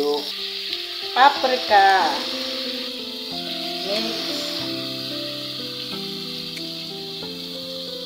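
Chopped garlic and ginger sizzle in hot oil in a pan with a steady frying hiss, stirred with clattering utensil strokes near the start, while someone speaks briefly over the cooking.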